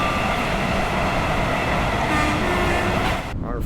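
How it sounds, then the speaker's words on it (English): Electric motor running sounds of an Avanti West Coast Class 805 train in a train simulator game, a steady rolling rumble with a faint motor whine, continuous and fairly loud, briefly dipping at the end. "The running sounds, just the electric motor sounds are not recycled from the 377 for some reason"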